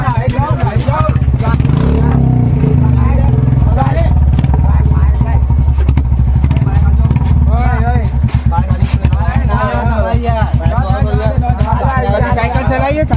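A motorbike engine runs loud and close with a steady, throbbing pulse throughout. Lively talking, like speech in a comedy skit, carries over it for much of the time.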